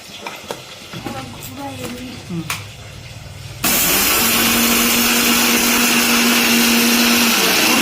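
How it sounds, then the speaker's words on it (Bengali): Blender grinding black mustard seeds and green chillies with a little water into a fine paste, starting abruptly partway through as a loud, steady high-pitched whir after a few clinks and soft kitchen sounds. "এখানে আমরা সরষে আর কাঁচা লঙ্কাতে সামান্য একটু পরিমাণ জল দিয়ে পিষে নেব।"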